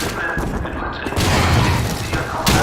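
A grenade blows up in Call of Duty 2, a loud dense blast with rumbling low debris that stays heavy through the clip, with a second burst near the end.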